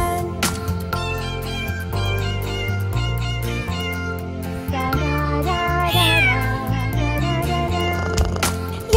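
Cartoon cat meows inside an Arabic children's song, several bright, rising and falling meows sung over a steady musical backing of bass and melody, loud and upfront.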